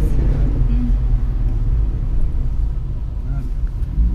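Rumble of an Opel Speedster's engine during a Nürburgring session with an instructor, a steady low drone heard close and continuous, with people talking over it throughout.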